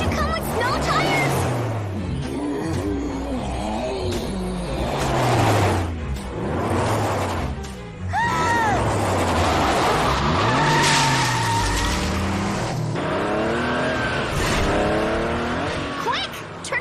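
Cartoon robot car with snow tires driving off in a rush, engine roaring and tires squealing in repeated skids, loud and close, with voices talking over it.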